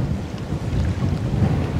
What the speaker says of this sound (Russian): Порыв ветра.